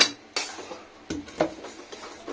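A sweet Bengali mixture being stirred in a pot, with irregular scrapes and metallic clinks of a spoon against the vessel, several distinct knocks spaced unevenly; close and moderately quiet, no talking.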